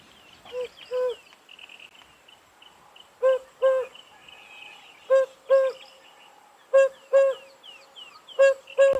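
Recorded cuckoo call played back from a birding app, heard as repeated paired hollow hoots, each two-note group spaced a second or two apart, with faint chirps and other birds between them, outdoors at sunset on safari.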